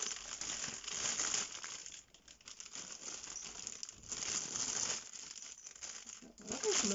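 Close, loud crinkling and rustling of the large foil-paper wrapper of a Pokémon Pikachu Easter egg being pulled open by hand, in uneven bursts with brief quieter pauses.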